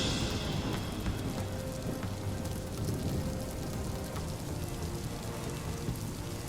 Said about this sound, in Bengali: বৃষ্টি এখনো পুরোপুরি থামেনি।